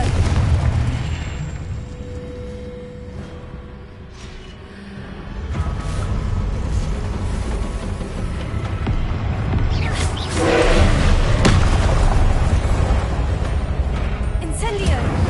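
Confringo spell blasts in Hogwarts Legacy boom and rumble through a long stretch of game combat, heavy low bursts building louder toward the end, with a voice speaking over the action.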